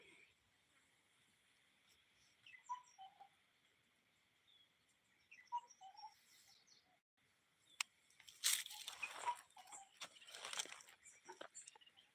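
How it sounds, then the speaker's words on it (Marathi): An unidentified bird sings with several short calls, some near and some farther off, over a quiet outdoor background, followed by a burst of rustling and crunching near the microphone. "असा आवाज काढणारा कुठला पक्षी आहे ते कमेंट बॉक्समध्ये नक्की सांगा"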